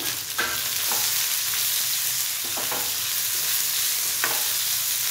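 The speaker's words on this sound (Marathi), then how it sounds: "या गवारीचे जे शेंगा आहेत ते आपण या फोडणीत टाकूया" Loud, steady sizzling of guar beans (cluster beans) frying in hot oil tempering, broken by a few clicks and scrapes of stirring.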